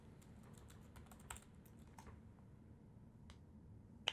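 Keys clack quietly on a Mac keyboard as a username and password are typed, in short irregular bursts of soft taps with a sharper final key press, close and faint in a quiet room.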